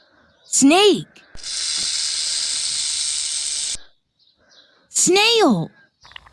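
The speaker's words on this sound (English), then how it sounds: "Snake." A long, steady snake hiss, loud and alone, lasting about two and a half seconds between the sweeping calls of other animals.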